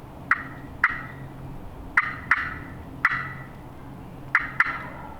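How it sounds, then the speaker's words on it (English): Wild turkey gobbler gobbling at a distance in the big hills, several sharp rattling gobbles in quick pairs and singles, moderately loud over a quiet outdoor background with no talk. "The third gobbler is getting a little closer."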